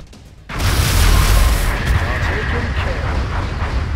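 Gunfire in the XCOM video game. A sudden loud blast bursts in after half a second of quiet, then a heavy, rumbling roar sustains to the end.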